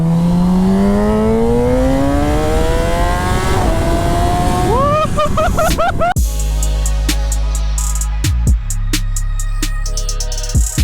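A 2017 Kawasaki ZX10R on a ride, its engine revving loud and close with rising pitch, then snapping through gear changes into a harsh, crackling high-rev roar.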